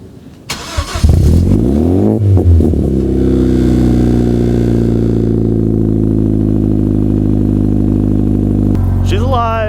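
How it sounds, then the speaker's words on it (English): A car engine cranks and catches, revs up sharply, then settles into a loud, steady idle close by before cutting off near the end. "this is going to be the coldest cold start that we'll probably ever get on this car"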